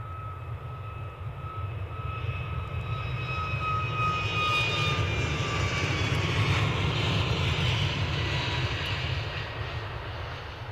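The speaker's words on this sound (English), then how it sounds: "Next inbound is a Ryanair arrival from Venice." Ryanair passenger jet inbound to Edinburgh airport, a steady distant engine roar and whine with slowly gliding tones, holding at moderate level throughout with no talk.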